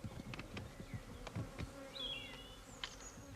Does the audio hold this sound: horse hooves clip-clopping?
no